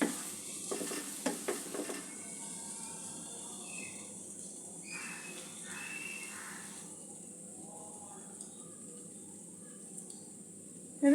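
Coconut sandesh mixture stirred in a pan as it dries, a steady faint sizzle and hiss with a few scraping strokes of the spoon early on, close and without talk.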